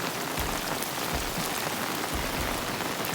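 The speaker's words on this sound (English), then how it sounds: "As you just see here, like rain cascading down the trail." Steady heavy rain pouring down a hiking trail in Colorado, a constant hiss of water splashing and cascading over the ground with no voices.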